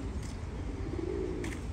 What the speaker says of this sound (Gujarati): કબૂતર જોઈ લ્યો